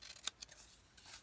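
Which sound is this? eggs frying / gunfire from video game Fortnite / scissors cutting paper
scissors cutting paper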